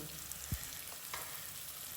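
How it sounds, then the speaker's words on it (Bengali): Loitta dried fish frying with onions in a pan gives a faint, continuous sizzle, with one soft stirring scrape early on and a few light clicks, and no talking. "আমি এখানে লইট্টা শুটকিটাও পেঁয়াজের সাথে একটু ভেজে নেব"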